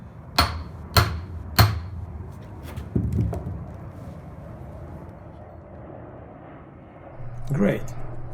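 A hammer drives a new outer CV joint onto a car axle shaft with three sharp metallic strikes in quick succession, then a few lighter taps. A last knock comes near the end over a low background hum.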